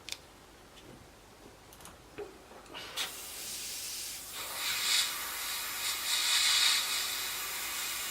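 An airbrush sprays paint onto a Tamiya 1/32 F-16 scale model, heard as a soft, close hiss. A few faint clicks come before it, and the spray grows gradually louder.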